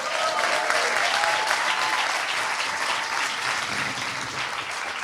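Audience at a WZO UK summer party breaks into sustained applause, a dense wash of many hands clapping steadily at close range for the full stretch, with a few faint whistles near the start.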